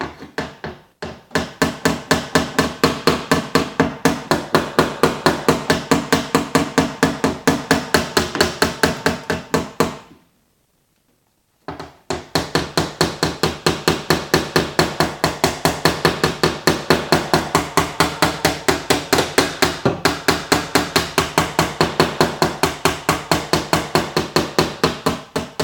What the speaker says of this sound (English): If I use a hammer, I can get that spot a little bit better.